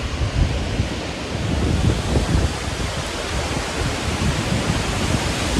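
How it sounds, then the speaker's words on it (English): Gusting wind from an approaching thunderstorm in an outdoor garden, a loud, continuous roar and rumble buffeting the microphone, swelling and easing slightly throughout. "with this storm coming in"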